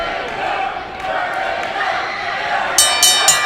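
A fight-night crowd roars steadily at the opening bell, a dense, loud wall of cheering and shouting voices, with a few sharp metallic rings near the end.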